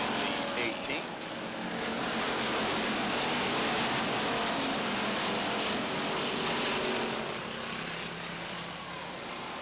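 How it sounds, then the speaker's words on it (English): Race cars roar steadily at Beech Ridge Motor Speedway, a dense continuous engine drone filling the air, loud and far-carrying, with no talk. "Two cars off the top of turn 4, both underway."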